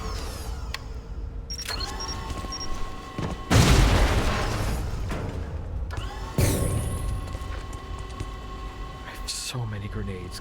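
Grenade explosions in the video game Shadow Complex: two loud broadband booms a few seconds apart, each bursting over steady game ambience and tapering into a rumbling tail, with a voice talking in between.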